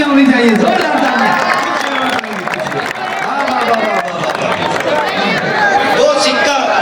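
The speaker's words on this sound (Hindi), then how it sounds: "जोरदार तालियां होनी चाहिए, जोरदार तालियां" An audience at a mushaira poetry recital in Khamgaon breaks into sustained, loud clapping and cheering that fills the room, mixed with crowd babble and voices throughout.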